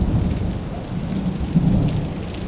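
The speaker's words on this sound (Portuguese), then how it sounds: "E é isso aí, mais um dia de chuva." A heavy rainstorm over a street in Curitiba, Brazil, with dense, steady rain and a low, continuous thunder rumble filling the air, no voices.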